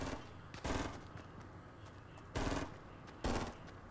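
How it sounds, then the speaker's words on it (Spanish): Three short bursts of rapid automatic gunfire in the video game Fortnite rattle out at intervals over a quiet background hum, fairly loud and close. "Escucho tiros, pero..."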